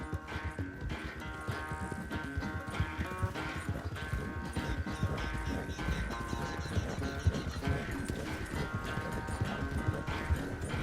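Horse hooves clip-clop in a steady, brisk rhythm in the Red Dead Redemption 2 video game, close and continuous, with a sustained musical drone underneath.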